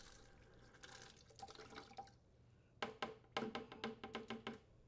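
Water spurts and splashes out of copper supply tubing behind a refrigerator after a shutoff valve is opened, a faint burst of hissing flow followed by a series of sharp splattering pulses.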